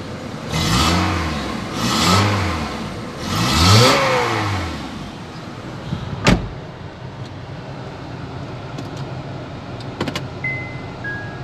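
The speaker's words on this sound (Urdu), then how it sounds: "تھروٹل سنا دوں اس کا" A 2011 Honda Civic with a 1.8 i-VTEC engine and Prosmatec gearbox revs three times in quick succession, each rev rising and falling, then settles to a quiet idle.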